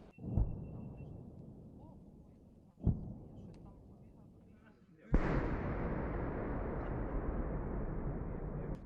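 Distant heavy booms of Grad rocket artillery firing at the front line, two sharp blasts a few seconds apart, then a sustained roaring rumble of a volley; no voices.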